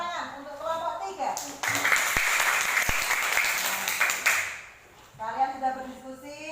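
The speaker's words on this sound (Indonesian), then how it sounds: "yuk tepuk tangan untuk kelompok 3" Classroom applause for a student group: a burst of clapping from a room of people lasting a few seconds, framed by a teacher's voice talking before and after.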